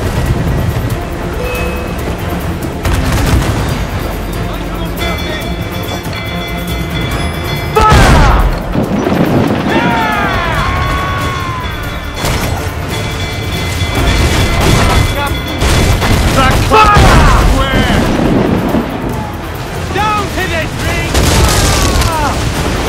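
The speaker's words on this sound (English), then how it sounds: "To quarters all, man the cannons!" Ship cannons firing in Assassin's Creed IV Black Flag, heavy booms rolling out in repeated volleys amid a busy naval battle, with crew voices shouting over the din.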